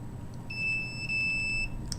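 A microwave detector alarm shielded by a metallic tray gives a high, steady electronic beep that runs for about a second, followed by a brief chirp, over a low background hum.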